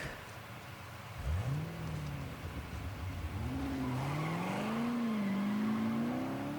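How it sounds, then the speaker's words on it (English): An officer's Corvette in the Need for Speed Heat video game pulls away, its engine note climbing through several gear shifts with a brief tire squeal at the start, steady and moderately loud with no talking. "the silly officer has buggered off in his Corvette"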